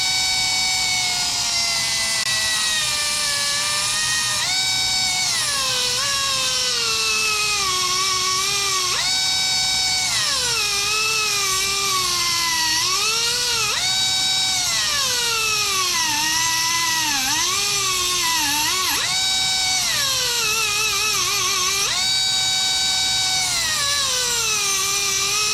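A rotary tool grinds a groove across the adjustment screws of a Homelite 33cc chainsaw carburetor, a continuous high whining buzz whose pitch dips and rises as the load changes, steady and close throughout.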